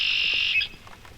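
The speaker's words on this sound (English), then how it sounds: "the red-winged blackbirds that are just hollering out their territorial calls" Red-winged blackbirds at a foothills pond call out a territorial call: a loud, clear, shrill note held for most of a second, then it fades into quiet background.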